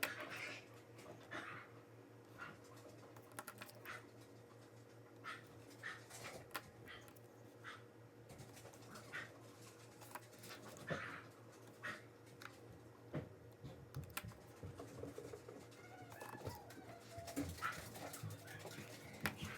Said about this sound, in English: Crazy dogs around.